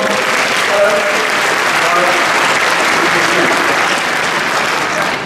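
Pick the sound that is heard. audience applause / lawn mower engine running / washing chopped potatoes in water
audience applause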